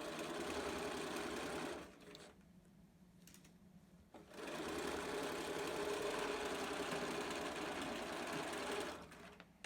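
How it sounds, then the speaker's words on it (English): A sewing machine stitches a fabric zipper pouch, running in two long steady whirring bursts separated by a short quiet pause, close and fairly loud with no talking. "Then you can continue sewing without that zipper in the way."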